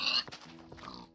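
Pigs in a Minecraft horror mod let out short snorting grunts, a few brief close calls spaced irregularly over a quiet background, with no talking.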